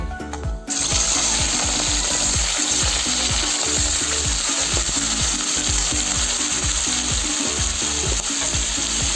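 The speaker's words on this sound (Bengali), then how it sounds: "তেল গরম হয়ে গেছে, এই যে চিংড়ি মাছ ভেজে নেবো।" Shrimp fry in hot oil in a kadai, giving a loud, continuous crackling sizzle with scattered sharp pops and scraping stir sounds, close up and without speech.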